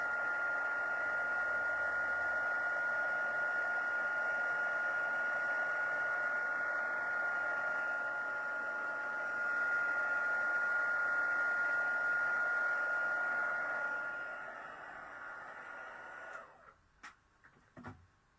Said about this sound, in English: just gently moving the heat gun around